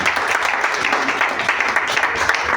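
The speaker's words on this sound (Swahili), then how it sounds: "Hata Yesu makofi." A church congregation claps together in praise of Jesus, dense continuous applause from many hands filling the room, loud and sustained throughout.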